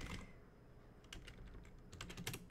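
Typing on a computer keyboard during an online Dungeons & Dragons session, with quick bursts of key clicks clustering near the start and again toward the end, fairly quiet and with no talking.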